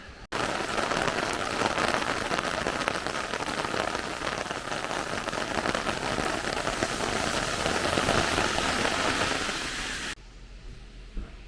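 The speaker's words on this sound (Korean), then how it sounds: "비가 다시 내리고 있어요." Heavy rain pouring steadily in the mountains around a hot spring in Hita, Japan, a dense even hiss of drops on surfaces that drops to a quieter patter near the end.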